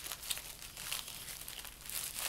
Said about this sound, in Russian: вот тут я, значит, снимаю этот пакет